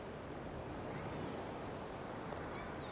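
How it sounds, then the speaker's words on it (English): Ocean surf and wind at a seaside fishing spot, a steady broadband roar of waves with gusts pressing on the microphone throughout. "let you guys enjoy the waves and the weather"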